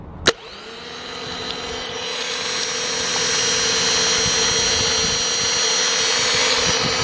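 Generac starter motor wired to a car battery: a sharp click as it engages, then a steady electric whine and hum that runs continuously and slightly builds, close and loud with no talk.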